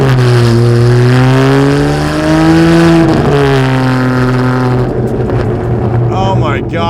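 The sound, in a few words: custom Ferrari 612 V12 engine revving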